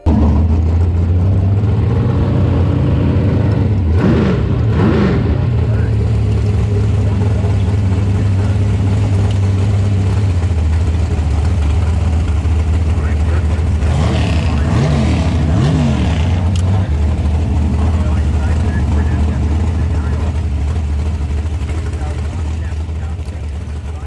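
Bracket racing car engine on a drag strip lap, a loud steady drone that swells and revs twice, with a continuous low rumble throughout and no talk.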